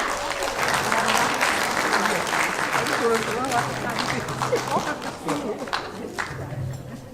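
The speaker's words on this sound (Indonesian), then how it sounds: "Sekali lagi kita berikan aplaus yang luar biasa." Steady applause from an audience at a senior club talk show anniversary event fills the stretch, holding fairly even throughout while a voice and scattered crowd sounds come through on top.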